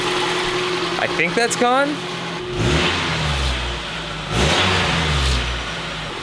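A 1990 Nissan D21 engine, freshly fitted with a new fuel pump, idles and then revs up in a couple of short bursts before settling back, with someone talking briefly over it.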